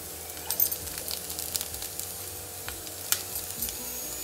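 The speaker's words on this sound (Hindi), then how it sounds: "बीन्स को अच्छे से फ्राई कीजिए।" Green beans and capsicum fry in a hot pan for an egg roll filling, giving a continuous close sizzle broken by light stirring scrapes and occasional small metallic clinks.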